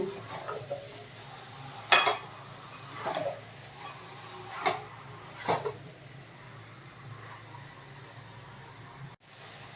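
Mutton curry being sautéed and stirred in a pot, with a few sharp scraping and clanking strokes of a utensil over a low steady sizzle, spaced unevenly and fairly close.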